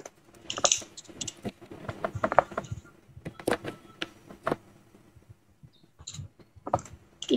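Computer keyboard keys clatter in quick, irregular bursts of clicks at fairly low volume, with small mechanical creaks mixed in and no one speaking.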